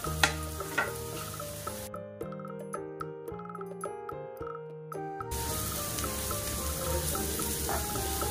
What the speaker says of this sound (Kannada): ಮೀಡಿಯಮ್ ಫ್ಲೇಮಲ್ಲಿ ಇಟ್ಕೊಂಡು ಫ್ರೈ ಮಾಡ್ಕೊಳ್ಳಿ, ಇಲ್ಲ ಅಂತ ಹೇಳಿದ್ರೆ ಖಾರದ ಪುಡಿ ಪೂರ್ತಿ ಸೀದೋಗ್ಬಿಡುತ್ತೆ.